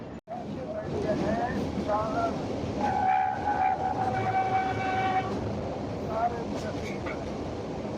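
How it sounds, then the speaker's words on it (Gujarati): A metre gauge train crossing in the Gir sanctuary near Junagadh, with a loud steady rumble of rolling wagons, several tonal horn or whistle notes, and faint voices underneath. "આ એક વધુ ટ્રેન જુનાગઢ તરફ જતી. અહીં એનું ક્રોસિંગ થઈ રહ્યું છે."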